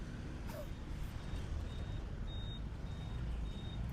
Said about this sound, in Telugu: వెనకాల ట్రాఫిక్ చూడవచ్చు.